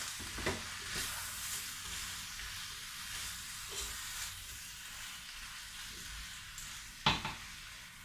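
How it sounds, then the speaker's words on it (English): A spoon stirs parsnips, potatoes and a vegetable stock cube in a cooking pot, giving soft intermittent scrapes with a light sizzle beneath and a sharper clank near the end. Nobody speaks. "So I'm just going to give it all a mix."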